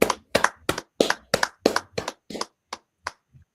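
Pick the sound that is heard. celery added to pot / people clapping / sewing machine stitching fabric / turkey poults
people clapping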